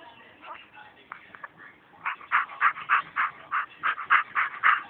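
A child imitates a dog with a run of quick, breathy yips and pants, about a dozen rhythmic bursts close to the microphone after some quieter sounds.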